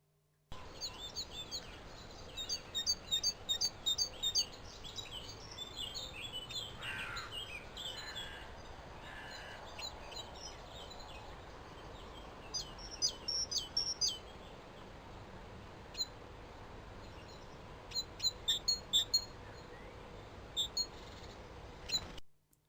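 A great tit calls in short bursts of sharp, high chirps, repeated at irregular intervals over steady outdoor background hiss, captured by a trail camera.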